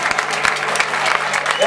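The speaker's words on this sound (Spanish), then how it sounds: "Apláudense ustedes mismos." Crowd clapping at a live outdoor-club music show in Santa Lucía, a steady rapid patter of many hands, fairly close and continuous with no voices over it.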